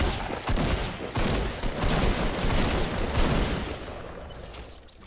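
Rapid, sustained gunfire rattles in a Fortnite duo match, dense overlapping shots and bursts filling several seconds at close range, with no talk over it.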